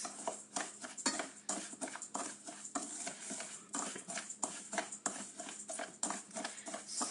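Homemade bath salts with chamomile stirred in a bowl in a home kitchen, a quick run of gritty scraping and clinking taps, close and moderately quiet, with no talking.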